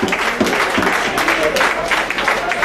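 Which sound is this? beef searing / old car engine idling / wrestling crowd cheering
wrestling crowd cheering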